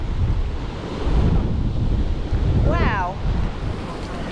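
Strong coastal wind roars and buffets the microphone on a rainy cycle ride beside rolling surf, with the waves washing underneath as a steady loud rush and a brief voice breaking in once.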